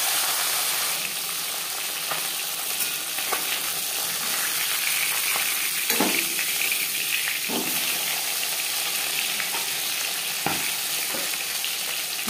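Pieces of silver carp, starting with the fish head, sizzle and crackle steadily in hot oil in a pan, with a few sharper spits and stirring knocks breaking through the continuous frying hiss.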